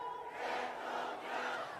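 Large crowd at a political rally in Korea roaring and shouting in unison, a sustained loud wash of voices swelling twice over a couple of seconds.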